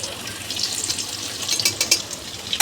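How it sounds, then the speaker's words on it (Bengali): Semolina and raw potato snacks frying in hot oil, a steady close sizzle with a few sharper crackling bursts toward the end and no talk. "আগে এগুলো ভাজা হোক"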